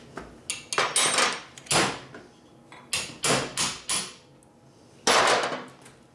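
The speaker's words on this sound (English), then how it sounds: "Could you hit it with a hammer?" Sharp metallic strikes ring out, several hammer blows in uneven bursts with pauses between, close and loud.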